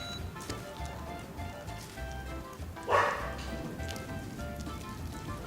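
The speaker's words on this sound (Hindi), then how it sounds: "कुत्ता भी भौंक रहा है" A dog barks once, mid-distance, near a road, over a steady wash of background noise resembling light rain.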